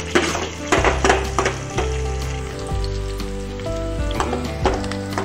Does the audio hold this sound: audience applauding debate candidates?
no